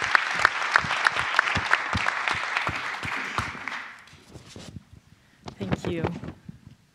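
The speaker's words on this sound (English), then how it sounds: "give her a round of applause" Audience applause at a festival debate as a speaker is invited to the podium: dense clapping for about four seconds, then fading into scattered claps and room noise, with a voice briefly heard near the end.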